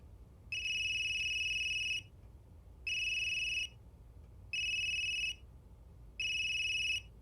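A phone ringing in the video game Unheard: four evenly spaced electronic ring bursts, each about a second long with clean steady tones, separated by short silent gaps over faint background hiss.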